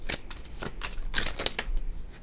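Tarot cards are shuffled and drawn, giving a quick run of crisp riffling slaps and flicks, close and fairly loud, with no talk over them.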